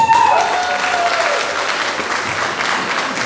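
Applause from an audience at a Romanian post-secondary nursing school oath ceremony, a dense, steady wash of clapping that stays loud throughout, with a brief tonal whistle or squeal near the start.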